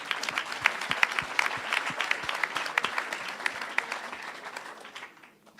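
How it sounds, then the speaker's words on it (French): An awards ceremony audience applauds with crisp, closely spaced claps that hold steady, then thin out and fade away near the end. "On peut applaudir."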